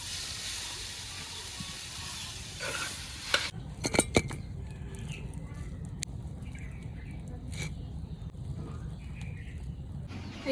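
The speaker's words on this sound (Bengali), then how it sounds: "এই তো পাট শাক ভাজা হয়ে গেছে" Jute leaves frying in a pan, a soft steady sizzle broken by a brief burst of metal utensil clatter and scraping as they are stirred, then a quieter sizzle continuing.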